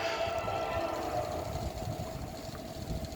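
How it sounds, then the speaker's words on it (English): Ethanol tanker train rolling through Guthrie, Kentucky: a steady, continuous low rumble of rail cars with a faint sustained tonal hum, moderately distant and even throughout, no voices. "I think it's an ethanol train. It's a tanker train."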